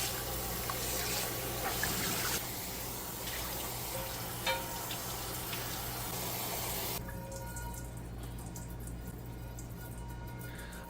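Running water streams steadily from a tap while a cast iron pan is rinsed, a continuous splashing wash with a few small clinks before the flow thins to a quieter trickle near the end.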